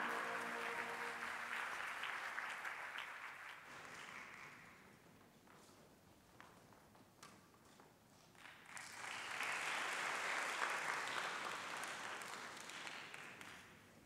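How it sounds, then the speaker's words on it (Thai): Applause for Dara Academy school of Chiang Mai at the MAI Championship 2019, a large audience clapping in two swells, loud at first, easing off in the middle, then surging again before tapering. "ขอเสียงปรบมืออีกครั้งให้กับโรงเรียนดาราวิทยาลัยเชียงใหม่ค่ะ"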